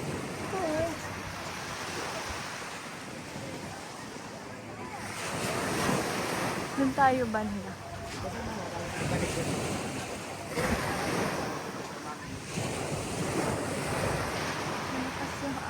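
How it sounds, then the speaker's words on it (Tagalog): Strong waves surge and break in rolling swells on Boracay, rising and fading every few seconds, with wind noise and people talking nearby over the surf. "Ang lakas ng alon."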